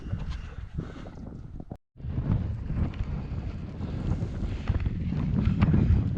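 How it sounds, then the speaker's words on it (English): Steady wind buffeting the microphone on a fell summit near Catbells above Derwentwater in drizzle, a low rumbling roar that drops out briefly then returns and builds, with no talking. "it's a bit windy up here"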